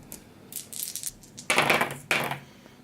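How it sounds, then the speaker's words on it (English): Red dice for the Glyph board game are rolled, a few light clattering bursts of plastic cubes tumbling and knocking onto a table, heard up close with no talk. "the next step is to roll your dice"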